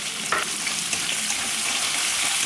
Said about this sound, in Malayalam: ഇതിലേക്ക് നമുക്ക് ഒരു വലിയ സവോള നീളത്തിൽ കനം കുറച്ച് മുറിച്ചത് ഇട്ട് കൊടുക്കും